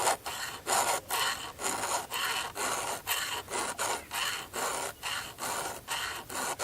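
A hand file sharpens the chain of an arborist top-handle chainsaw with steady, evenly spaced strokes. About a dozen close, gritty rasps sound in a regular rhythm, with no voices.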